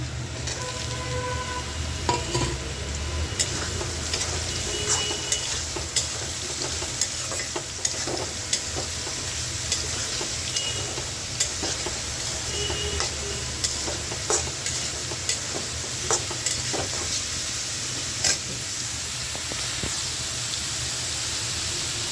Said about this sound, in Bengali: এটার মধ্যে এখন সয়াবিন দিয়ে দিব, একসাথে দুইটা ভাজা নেব।